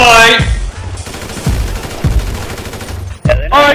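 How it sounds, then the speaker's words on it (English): Rapid gunfire from enemies in Grand Theft Auto 5 rattles in bursts, loud and dense, with voices over the shooting. "they're all shooting at us!"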